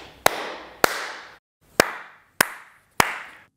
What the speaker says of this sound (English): To check how much reverb there is in a room, do a clap test and hear reflections.